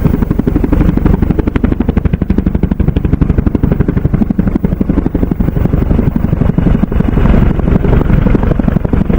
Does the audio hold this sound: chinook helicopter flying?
yes